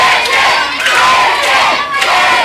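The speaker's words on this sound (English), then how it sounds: "a crowd here at the Middlesex County Fair really letting TJ Blade know what they think about him" Loud county fair crowd at the Middlesex County Fair shouting and jeering at wrestler TJ Blade during a wrestling show, a dense, sustained roar of many voices close by.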